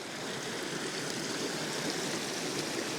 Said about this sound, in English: here's the creek that leaves my property